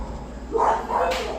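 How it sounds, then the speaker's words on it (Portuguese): Dogs barking in a domestic setting, two or three short muffled barks in the middle of the clip over steady background noise. "aqui deu uma bagunça agora com os cachorros"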